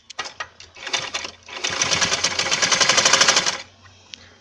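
A sewing machine stitches bias piping onto a garment neckline, first in a few short bursts and then a steady rapid run of close mechanical clatter, stopping with a final brief tick.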